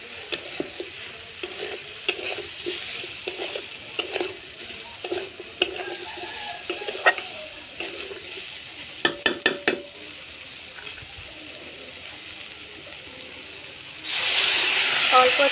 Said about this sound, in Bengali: অল্প জল দিয়ে আবার মশলাটা কষে নেব।